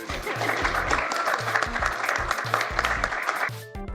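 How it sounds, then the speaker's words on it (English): Audience applause at a Colorado football gathering, a dense wash of clapping layered with rhythmic low thumps that look like music, holding steady before fading out near the end. "You can clap, it's okay."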